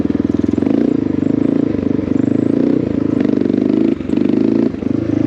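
A Honda XR650L motorcycle engine revving loudly and steadily up close, a thick pulsing rumble that dips briefly twice before picking back up.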